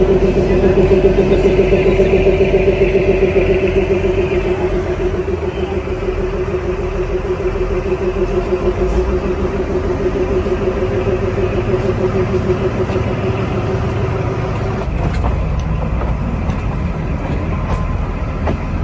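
Shivalik Deluxe Express toy train pulling out of Kalka station toward Shimla, a loud, steady rumble of wheels and engine with rhythmic clickety-clack as it rolls along.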